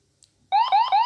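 A Qx7 radio transmitter running OpenTX gives a short siren-style electronic alert, a bright warbling tone that starts after a faint click and repeats in quick rising sweeps, close and alone.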